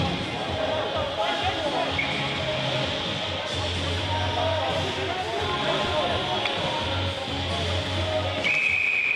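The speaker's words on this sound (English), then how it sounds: "And whistle." A referee's whistle at an ice hockey game shrills briefly near the end, over a continuous rink ambience with crowd murmur and voices.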